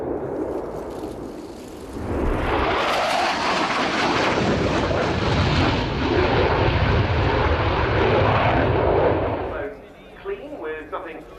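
A Spanish Air Force Eurofighter Typhoon jet flies a display at the RIAT 2016 airshow. A loud, sustained roar rises sharply and holds for several seconds, then drops away to faint background noise.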